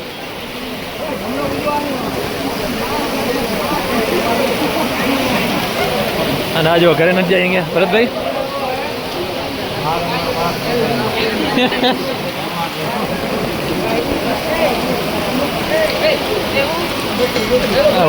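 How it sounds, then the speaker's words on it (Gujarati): Steady heavy rain hisses throughout at an outdoor village fair, with people talking over it now and then. "સતત પોણા કલાક કલાકથી વરસાદ ચાલુ છે"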